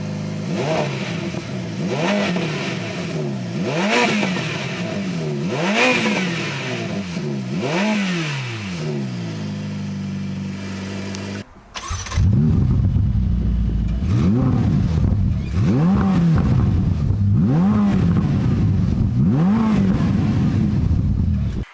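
A Ferrari F8 Tributo sitting after a cold start gives a series of sharp throttle blips, each rev rising and falling in a steady rhythm, then a louder, harsher run of repeated revs close by, with no talking.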